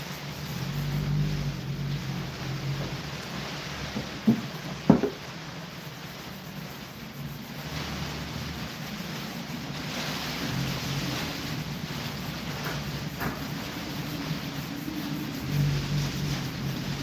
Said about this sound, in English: Dude, that is some wind, my guys.